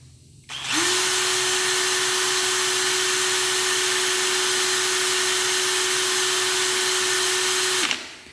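A Bosch HDH183 cordless drill spins up and runs at a steady high-pitched whine for several seconds, loud and close, then stops.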